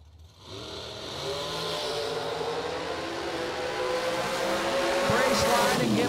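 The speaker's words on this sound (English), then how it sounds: "And 5 thou under, double breakout race going to Fredrickson." Drag race cars launch side by side in a double breakout race at the New Year Nationals, a loud sustained engine roar building after a brief quieter start, with a sharp burst near the end.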